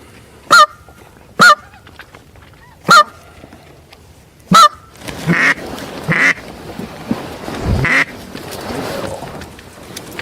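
Canada geese honk in a duck-hunting setting: four loud, evenly spaced single honks ring out, followed by a flurry of overlapping honks and calls over steady outdoor background noise.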